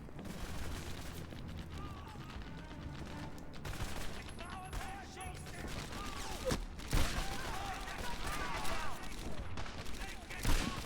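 Medal of Honor Airborne gameplay with Thompson submachine gun and Springfield rifle fire, repeated gunshot bursts and booms over dense battle noise and game music, with a voice talking over parts of it.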